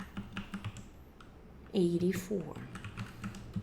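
Quick keystrokes on a computer keyboard, close and light, tapping in short rhythmic runs before and after a brief spoken phrase.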